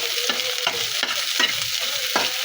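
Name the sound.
frying chopped onions and green chillies while stirring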